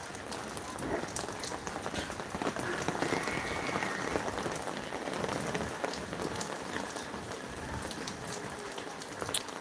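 A dense, steady wash of heavy rain pattering on surfaces, continuous and full, with no voices.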